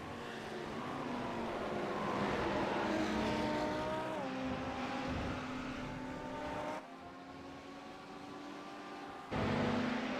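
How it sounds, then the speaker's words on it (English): A John Deere-sponsored BMW GT race car in a sim racing game at Brands Hatch. Its engine whine climbs and falls in pitch through gear changes, loud and continuous, with a short dip near the end. "I think that's the John Deere sponsored BMW there that Ben is driving"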